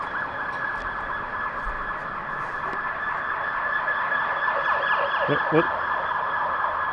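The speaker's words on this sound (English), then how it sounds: "There are sirens everywhere" Emergency sirens wail from several directions around a roadside stop, a steady layered tone with a rising and falling sweep that grows slightly louder toward the end, heard from a moderate distance.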